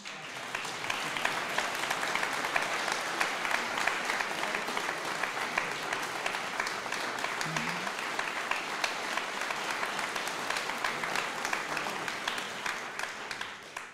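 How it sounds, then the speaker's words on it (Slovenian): Sustained audience applause fills a concert hall after a song by a chamber male choir, a dense, steady clatter of many hands lasting the whole stretch at an even level. "Še en aplavz, prosim."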